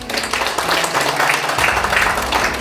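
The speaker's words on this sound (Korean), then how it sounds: "힘찬 박수를 부탁드립니다" A crowd applauds at a political party founding ceremony in a wedding hall, dense continuous clapping that stays loud and steady with no one speaking.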